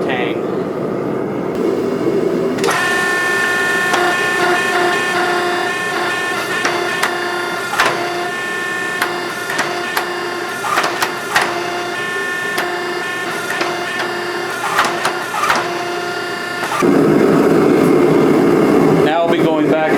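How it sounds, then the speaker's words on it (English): Hydraulic forging press fitted with flat dies shaping the tang of a Damascus steel hunting knife: a continuous droning machine hum, punctuated by sharp metallic knocks and clanks at irregular intervals, close and fairly loud. "We're going to put our flat dies on here, and we're going to use this to forge in the tang."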